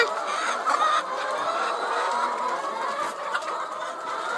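Laying hens in a chicken coop in Phetchabun, Thailand, clucking and murmuring continuously at close range, with occasional sharper squawks rising above the steady flock chatter.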